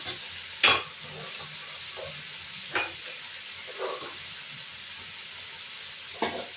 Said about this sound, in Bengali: মাছটা নাড়িয়ে